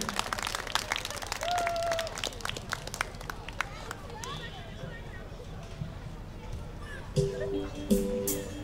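Crowd applause greets a singer as she takes the stage at the Dni Chojnic town festival: scattered, moderately loud clapping that carries on throughout, with voices and other crowd noise mixed in.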